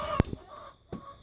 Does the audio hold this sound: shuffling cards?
no